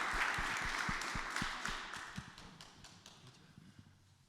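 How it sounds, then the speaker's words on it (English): A small audience at a security panel discussion claps briefly, with distinct individual hand claps at first that thin out and fade within a few seconds. "let's give them a round of applause"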